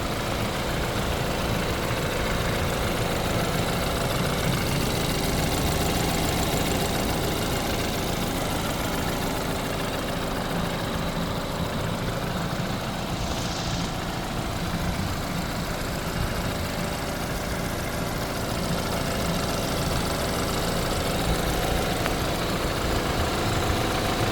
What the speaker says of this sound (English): And then this is the engine.